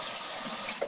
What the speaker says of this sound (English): Quick wash of the hand, and dry it.